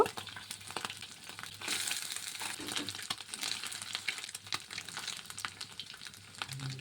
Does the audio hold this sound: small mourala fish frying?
yes